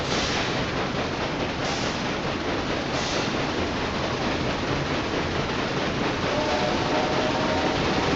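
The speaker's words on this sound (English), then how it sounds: "There goes another train." A train in the game Railway Empire 2 rushes past as a loud, steady roaring wash of noise that fills the whole stretch without letting up.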